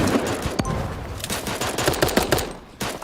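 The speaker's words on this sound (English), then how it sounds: "1, 2, 3 SMG shots." Submachine gun fire in a competitive video game match, rapid bursts of sharp shots in close succession over steady game background noise.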